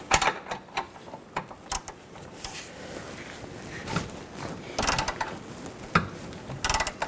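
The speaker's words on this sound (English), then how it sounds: "Take a 14mm wrench and loosen up the nut." Metal clicks and ratcheting of a 14mm wrench loosening a rear sway bar link nut on a 2007–2011 Honda CR-V, irregular close taps and short bursts with quiet gaps between.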